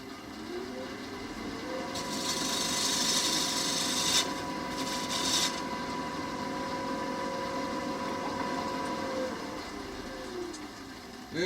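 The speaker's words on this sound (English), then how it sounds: "so I'm just going to chamfer this corner" A lathe tool chamfers the corner of a turned wooden bowl, giving a steady, close scraping hiss over the low hum of the lathe motor. The scraping grows coarser for a few seconds in the middle.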